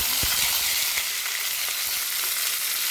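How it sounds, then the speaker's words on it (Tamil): Ivy gourd fries in hot oil with mustard seeds, chana dal and curry leaves, giving a loud, dense, continuous sizzle with a few faint stirring taps. "வந்து கோவக்காவை நம்ம வறுக்க போகிறோம்."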